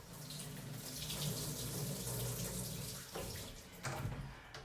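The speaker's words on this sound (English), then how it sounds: "I'm gonna rinse these off." Tap water runs steadily into a sink as a grapefruit and an orange are rinsed under it, a close, continuous splashing stream with a few brief shifts as the fruit moves under the flow.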